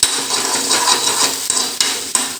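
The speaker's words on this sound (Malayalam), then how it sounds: "ഇങ്ങനെ ഇളക്കി കൊടുക്കണം." A spoon stirs a ladies finger (okra) roast in a pan, making a loud, steady scraping and rustle close up, broken by a couple of sharp knocks against the pan.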